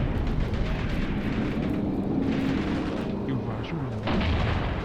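Tank cannon fire in the Graviteam Tactics combat game, set in a 1979 African mercenary battle: a dense, continuous rumble of heavy gunfire and explosions with shifting booms, loud and steady throughout.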